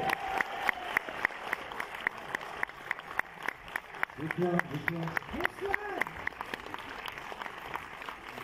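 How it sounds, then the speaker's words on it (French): An audience applauds the director and cast at a film premiere in a large cinema hall, the clapping dense and sustained throughout, with a voice speaking over it partway through. "On les applaudit bien fort s'il vous plaît."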